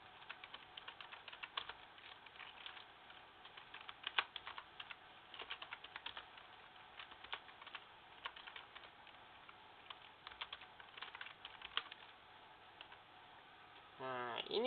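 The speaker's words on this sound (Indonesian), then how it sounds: "jangan lupa ketik." Someone types an airport location on a computer keyboard: rapid, uneven clicking keystrokes run steadily for about fourteen seconds, close and fairly quiet. Near the end, a brief voice-like sound is heard.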